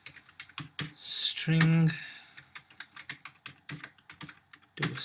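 Quick, irregular clicks of keys on a computer keyboard while code is typed, close and crisp, with someone speaking briefly partway through.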